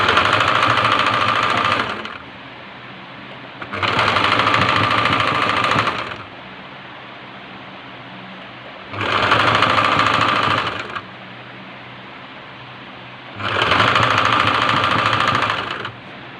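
Sewing machine stitching a black dress with flare sleeves, running in four loud, close bursts of about two seconds each, separated by short pauses with a softer background hum.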